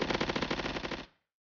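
Rapid automatic gunfire from a first-person shooter video game, a loud continuous burst of about one second that stops abruptly with a short decaying tail.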